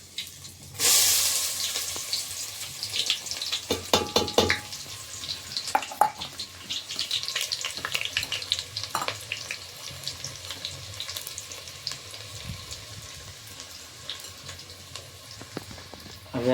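Chopped onions drop into hot oil in a pan for a Gujarati peanut-bhajiya curry, and a loud hiss of frying bursts in and then settles into a steady sizzle and crackle. Occasional utensil clinks sound over it, with no talking.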